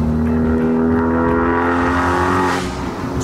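A 353 whp Honda Civic Type R FK8 on a mountain road climb in Malaysia drones loudly and steadily under acceleration, then its note shifts and eases near the end, heard from inside the car with no talking.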